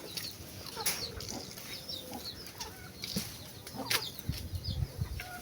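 Chickens cluck softly on a small urban farm in Kampala, with pigeons, ducks and turkeys kept nearby. The scattered clucks and chirps are faint over outdoor ambience with occasional rustling.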